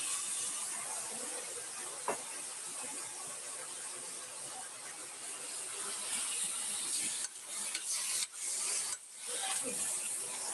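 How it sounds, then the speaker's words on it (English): Meat browning in a hot pan, a continuous close sizzle and hiss with scraping as it is stirred and moved around, the sizzle briefly dropping out near the end. "So what I'm doing is I'm just moving it around, see?"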